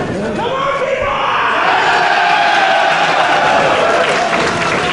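Wrestling crowd in an Atlanta arena during a YAMATO vs. Akira Tozawa title match, a steady, loud roar of cheering and shouting that swells and holds throughout.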